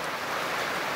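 Rain falls steadily outdoors in South Cotabato, Mindanao, a dense, even hiss of drops with no pauses, close and moderately loud.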